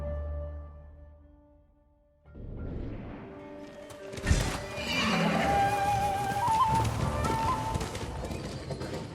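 A horse whinnies over steady, crunching hoofbeats in the video game Ghost of Tsushima after a quiet start, with a sharp thud partway through and dense background noise.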